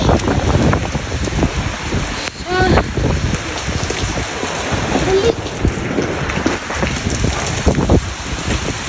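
Dense, steady typhoon rain from Typhoon Odette pours down at night with wind noise, a continuous hiss and patter filling the whole stretch, with a brief tonal squeak partway through.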